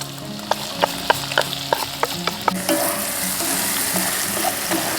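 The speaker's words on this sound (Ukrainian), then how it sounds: "Коли обсмажується грудинка разом з часником, це утворює просто неймовірний аромат." Pork brisket frying in a pan with garlic and onion, a steady close sizzle with a run of sharp clicks and taps from stirring in the first half, then a denser, brighter hiss of frying.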